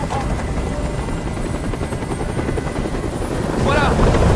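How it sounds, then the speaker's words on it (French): A helicopter hovers in Detroit: Become Human, its rotor throbbing in a steady, loud drone throughout, with a brief voice rising near the end as the engine swells. "Fais dégager cet hélicoptère"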